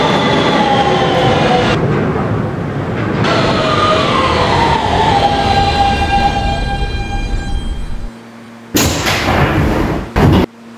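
A Roblox R160B Siemens subway train on the BMT Broadway Line runs loudly with a rumbling roar and a falling whine of traction motors, then cuts off briefly and returns with sharp chimes near the end.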